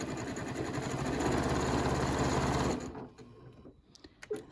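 A sewing machine runs a variable zigzag stitch controlled by a knee lift, giving a fast, steady mechanical chatter for nearly three seconds before stopping, followed by faint handling clicks.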